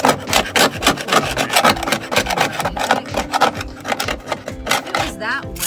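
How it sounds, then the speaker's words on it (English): A small scraper works road paint off a car's plastic trim in quick, rhythmic, close scratching strokes, with a person talking briefly near the end. "We're also using a little scraper. Just on the plastic."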